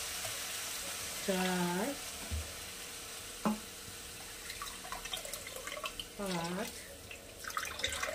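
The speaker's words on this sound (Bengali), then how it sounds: "6, পুরো 6 কাপ জল দিলাম।" Water poured cup by cup into a cooking pot for chicken tehari makes a continuous splashing, trickling wash, while a voice counts aloud over it and a few sharp knocks sound in between.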